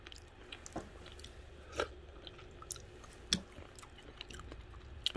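Chewing and biting on freshly wrapped wontons, soft wet mastication with a few crisper crunchy bites spaced irregularly, close to the mouth over a quiet room background.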